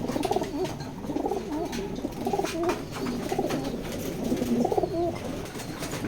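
Racing pigeons in a loft coo repeatedly in soft, overlapping low phrases at close range, with light shuffling and rustling continuing underneath throughout.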